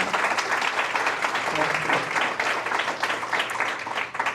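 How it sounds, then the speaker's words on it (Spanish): An audience at the Miami Book Fair applauds author Julia Navarro. The steady, dense clapping from a seated crowd lasts a few seconds, swelling and fading slightly, with a voice faintly audible beneath it. "Un aplauso para Julia."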